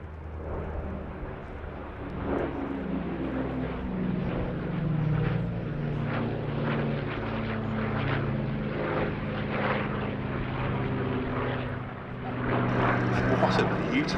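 A Douglas DC-6 airliner flies past at a Duxford airshow, its four Pratt & Whitney piston engines giving a steady, moderately distant propeller drone that swells near the end, with a commentator's voice under it.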